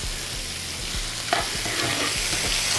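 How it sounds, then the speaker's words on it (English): Garlic, green onions, scallions and cinnamon sautéing in a pan, a dense, loud sizzle with a few soft stirring knocks and one sharper scrape partway through. "I might just saute that in there just a little bit"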